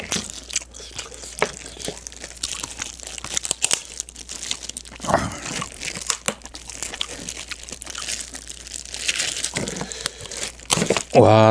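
Scissors crunch and crackle through the thick shell of a large king crab leg in repeated cutting snips, with close, busy cracking and crinkling throughout and some speech at times.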